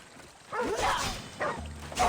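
A small dog in the video game Assassin's Creed Odyssey gives a couple of short yelping barks, moderately loud over a faint game backdrop.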